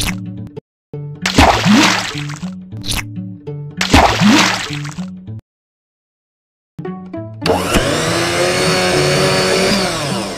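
A blender whirs loudly as it mixes a fruit smoothie in a children's cartoon, roaring steadily at the end. Before it come short splashy sound effects and plinking musical cues broken by silent gaps.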